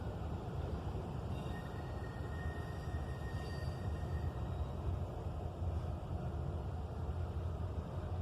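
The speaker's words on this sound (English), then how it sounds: "they put the boxcars on the dead track and moved across" Train moving Conrail and New York Central boxcars onto a dead track, a steady low rumble of rolling freight cars heard from nearby, constant with no voices.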